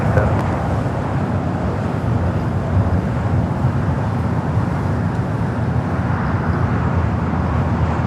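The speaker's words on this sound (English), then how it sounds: "Lufthansa flight 452 coming in from Munich on that A380 Super" A Lufthansa Airbus A380 arriving at Los Angeles International Airport on a flight from Munich, heard as a steady, loud, broad jet rumble that holds evenly throughout with no voices.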